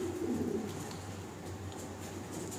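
Budapest short-faced pigeons cooing in a loft, soft repeated low coos close by, with faint chirps and rustling in the background and no talking.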